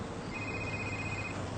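A mobile phone rings with a steady, continuous electronic tone, fairly faint under a low background hum, with no talking.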